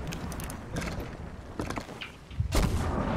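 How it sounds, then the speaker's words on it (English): Heavy cannon fire in a naval battle game, a run of loud booming blasts layered over constant rumbling battle noise, with one especially strong blast near the end. "Oh, fucking cannonballs."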